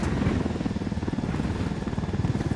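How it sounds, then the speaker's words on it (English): Helicopter in Ghost Recon Wildlands, a steady loud rotor thump and turbine drone running continuously without a break, close and alone with no talk. "Nothing like swiping a helicopter to bring a day into focus."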